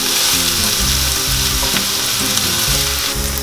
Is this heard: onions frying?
yes